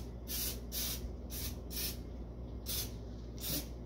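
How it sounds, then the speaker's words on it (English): Six short, hissing bursts of olive oil cooking spray onto a baking pan in a steady rhythm, close and fairly quiet, with brief pauses between them. "Now we are gonna spray the pan"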